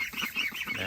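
Ducks being moved outside on a poultry farm, giving a short run of close, honking quacks in quick succession.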